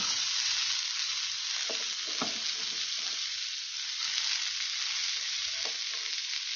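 Cauliflower and beans stir-fried in a pan in a village kitchen: a steady, close sizzle with a few scraping stirs of the spatula scattered through it. No one speaks.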